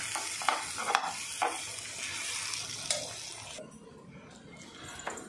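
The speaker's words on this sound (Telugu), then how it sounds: "ఆనియన్స్, మిర్చి, కరివేపాకు, కొత్తిమీర, జింజర్ గార్లిక్ పేస్ట్ ఇవన్నీ చక్కగా వేసుకొని కొంచెం ఆయిల్ ఎక్కువ పడుతుంది, అంతా ఫ్రై అవ్వాలి కదా." Onions, green chillies, curry leaves, coriander and ginger garlic paste fry in plenty of oil, a close crackling sizzle with several spoon scrapes and clinks against the pan before the frying settles to a softer hiss.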